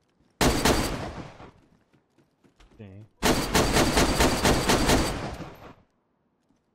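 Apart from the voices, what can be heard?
gunfire in the video game DayZ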